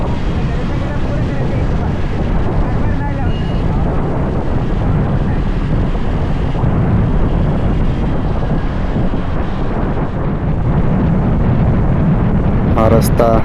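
Loud, roaring wind buffets the microphone continuously, a low rushing blast of air streaming through a helmet while riding a scooter.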